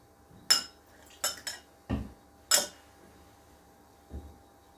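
A tablespoon of apple cider vinegar goes into a drinking glass, with several sharp, close spoon-on-glass clinks and taps spaced irregularly against a quiet background.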